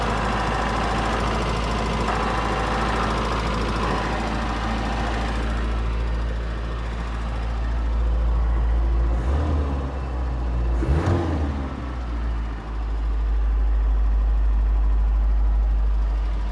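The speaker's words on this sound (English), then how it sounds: "you can hear that throwout bearing, because when I depress the clutch, it goes away" A 1983 Toyota pickup engine idles with throwout bearing noise, a steady close mechanical drone with a low rumble and faint whine, shifting briefly in the middle.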